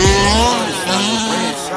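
A fully ported 36cc Baja small engine runs loud and close, with a buzzing high-pitched two-stroke tone whose pitch swings as the throttle changes over a short burst.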